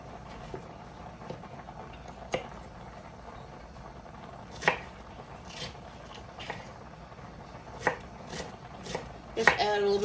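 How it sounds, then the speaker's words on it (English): A knife slicing an onion on a cutting board, with a handful of sharp, irregularly spaced chops over quiet background, no speech. "I'm going to slice up an onion."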